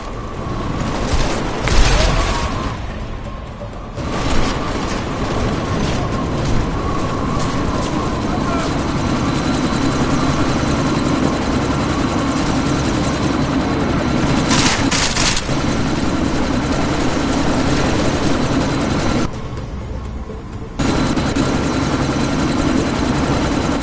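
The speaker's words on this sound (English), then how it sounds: "this sandstorm might have just bought us some time, but you need to disable that chopper." Helicopter chopper in Deus Ex: Mankind Divided during a sandstorm, a loud steady rotor and engine roar filling the scene with brief dips and bursts, under occasional game dialogue.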